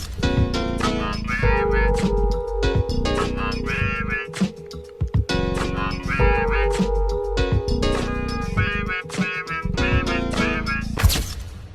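An unreleased instrumental plays as a steady hip-hop beat with heavy bass, punchy drums and a sustained melodic line, loud and continuous with no vocals.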